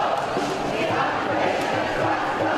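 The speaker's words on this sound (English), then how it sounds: "And as the crowd swelled to hundreds of people," Hundreds of people at a pro-Palestinian march in a downtown street produce a dense, continuous crowd roar with mixed shouting voices, loud and close throughout.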